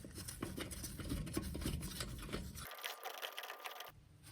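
Top screws being driven into the transmission mount of a 1997 Mazda B2300 with a manual M5OD gearbox, heard as a busy, rapid mechanical rattle for several seconds that stops abruptly, then a short quieter stretch of shop noise.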